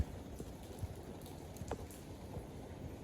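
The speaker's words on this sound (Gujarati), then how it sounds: "વરસાદ હારો પડી ગયો" Light rain patters softly and steadily, with a few scattered drops tapping more distinctly against a surface.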